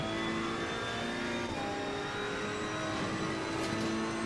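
A Ferrari race car engine in a sim racing game holds a continuous, loud, even drone with a steady pitch, close and alone.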